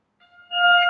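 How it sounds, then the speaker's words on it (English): A single piano note from a first-octave wave file rings out as a steady, clear tone after a brief soft onset, growing louder and holding to the end. "So this is the sound of piano note."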